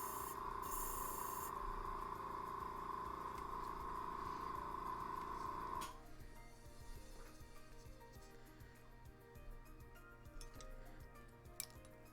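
An airbrush sprays cleaner into a spray pot in a steady, hissing burst for about six seconds, then cuts off, leaving faint ticks and clinks against a quiet room.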